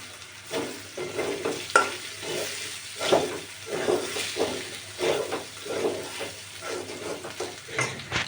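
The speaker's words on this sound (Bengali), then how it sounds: "আলুগুলো একটু ভেজে নেওয়ার পর এর মধ্যে দিয়ে দিচ্ছি মরিচ গুঁড়ো" Potatoes and onions frying with salt, turmeric, ginger and chili powder, with a soft sizzle under repeated rhythmic stirring and scraping of a utensil in the pan, heard close with no talk.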